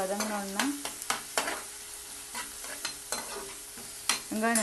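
Sautéed onions with chopped tomatoes just added, stirred in a pan for veg pasta: repeated scraping strokes of a spatula over a steady sizzle, close and moderately loud.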